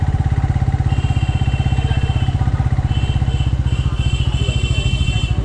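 A motorcycle pulls into a bike parking area at Matheran hill station, its engine close and loud with a fast, even chugging idle that continues throughout.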